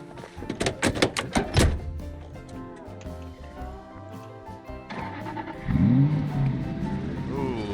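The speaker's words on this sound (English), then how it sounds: "Ooh, this engine is not great." Car engine in Project Zomboid running rough and in poor condition, with a startup and revving that rise and fall near at hand, a door thunk early on and a voice talking partway through.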